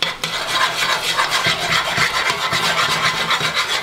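Beef gravy for poutine being stirred in a pan, with a steady rasping scrape of the utensil against the pan running continuously and closely, with no talking.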